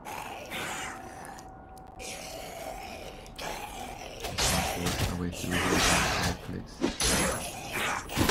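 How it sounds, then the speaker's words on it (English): A dungeon exit gate opening in the video game Lost Relics, a swelling burst of whooshing, grinding mechanism noise that builds in the second half over a steady game backdrop. "The sound you heard just now is the gate opening to exit the dungeon."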